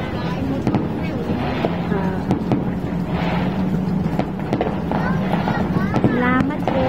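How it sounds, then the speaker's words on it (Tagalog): New Year fireworks crackle and pop in rapid scattered bursts with distant booms, continuous over a steady background while people talk throughout. "May pa-fireworks din sila?"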